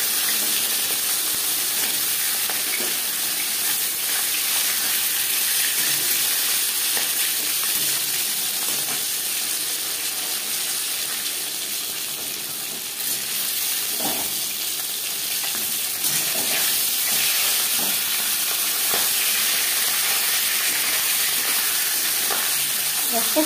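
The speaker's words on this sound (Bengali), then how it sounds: "সবার প্রথমে মাছের মাথা ভেজে নেব।" A fish head for rohu curry sizzles in hot refined oil, a dense, steady frying hiss with crackles and pops that runs throughout, close and loud.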